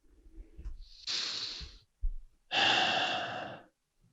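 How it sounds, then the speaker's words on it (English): Two deep breaths, a long inhale and then a fuller exhale, close and clear with brief quiet gaps and soft shuffling before them. "Take a deep breath."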